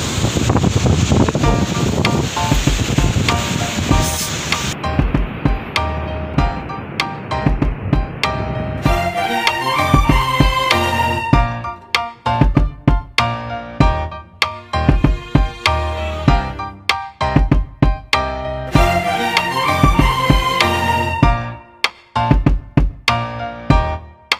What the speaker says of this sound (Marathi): ॲक्च्युली समुद्राचा आवाज खूप येतो आहे